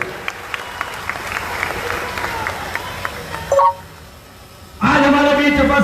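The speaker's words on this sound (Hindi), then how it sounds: "जोरदार तालियां से हम उनका स्वागत करेंगे" Audience applause welcomes Shivraj Singh Chouhan at a BJP membership ceremony in Venus Marriage Hall, Gwalior: steady hall-wide clapping for about three and a half seconds, then a short beep, a near-silent gap and a louder burst of tonal sound.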